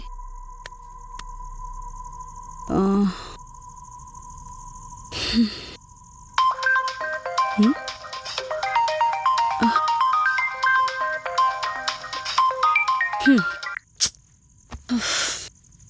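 A mobile phone ringtone plays a bright, repeating melodic tune for several seconds, clear and close, with a few soft thumps before it starts and after it stops.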